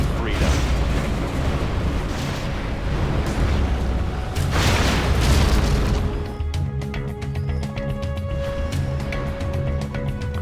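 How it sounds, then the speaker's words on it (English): Heavy booming explosions and rumbling blasts from cruise missile strikes in the real-time strategy game Command & Conquer Generals, loud and continuous for several seconds before giving way to quieter game sounds and music. "Tomahawk systems online. Arming cruise missile."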